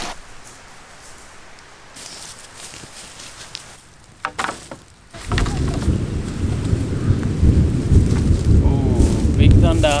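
Loud, deep thunder from an incoming storm rolls in halfway through, building into a sustained heavy rumble over light rain at Cairncross near Port Macquarie and Kempsey, after a quieter opening.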